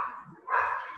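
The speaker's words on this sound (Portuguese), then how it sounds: "Desculpa aí, meu cachorro." A nearby dog lets out two short, sharp barks, the second louder and longer, with no talking over it.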